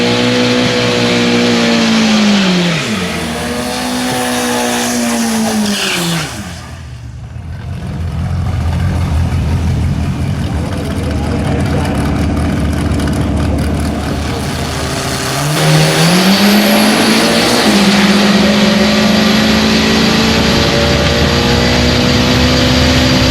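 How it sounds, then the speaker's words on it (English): Suzuki Jamboree drag car launching down the drag strip, its engine screaming loud and close, rising in pitch through gear changes, dipping briefly, then revving hard again. "So the little Suzuki gets a bye on the first round of racing, but they're still going to send it."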